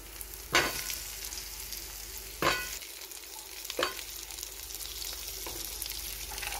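Onions fry in a pan for butter chicken with a continuous soft sizzle, broken by three or four sharp spoon-on-pan knocks and stirring scrapes, close and moderately quiet, with nobody speaking.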